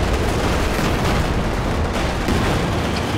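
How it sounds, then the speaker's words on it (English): Heavy mortar fire in Company of Heroes 2, a dense and continuous wash of booming shell impacts and battle noise that stays loud and unbroken the whole time. "These double heavy mortars just been ripping through Pantherfame's army."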